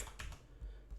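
Quick taps on a computer keyboard while entering a cheat code in The Sims, with a handful of close, light keystrokes in an uneven rhythm.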